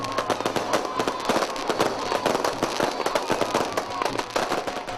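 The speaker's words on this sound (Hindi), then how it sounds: "मुल्तान में 9 मुंतखब मेयर की रिहाइश गाह पर आतिशबाजी की गई" Fireworks crackle and pop nonstop at a mayor's residence in Multan, Pakistan, during an election victory celebration, a dense, loud rattle of rapid bursts with no gaps.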